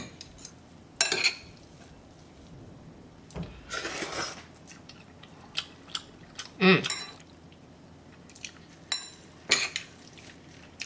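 Buckwheat noodles being tossed with a perilla oil sauce, with scattered wet clinks and scrapes of utensils against a bowl, brief bursts close by under intermittent talk.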